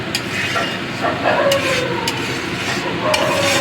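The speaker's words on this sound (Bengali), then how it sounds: "এইভাবে তেলের মধ্যে হলুদ গুঁড়ো আর কাশ্মীরি লঙ্কার গুঁড়ো দিয়ে দিলে" Turmeric and Kashmiri chili powder fry in hot oil for a vegetarian potato curry, giving a steady close sizzle with stirring scrapes throughout.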